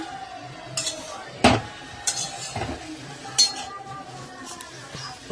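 Potatoes and bottle gourd greens being stirred in a pan, with irregular clinks and scrapes of a utensil against metal over a faint sizzle, close by and without talk.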